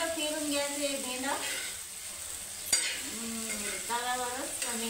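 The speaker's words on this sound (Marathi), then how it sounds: "आणि मस्त फिरून घ्यायचे भेंड" Okra stirred around a hot griddle pan: a continuous sizzle with light scraping and one sharp utensil tap, under intermittent talking.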